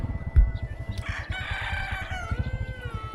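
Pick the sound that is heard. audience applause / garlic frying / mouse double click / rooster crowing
rooster crowing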